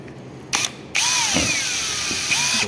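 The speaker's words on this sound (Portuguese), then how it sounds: "Fácil de furar assim, né?" A power drill bores into a workpiece on a CNC setup, with a short opening burst and then a loud, steady whine close by, its pitch sliding as the load shifts. No voices.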